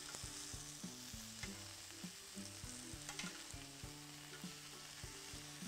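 Chicken meat frying in a pan for a Caesar salad, a steady close sizzle with light stirring over quiet background music and no speech.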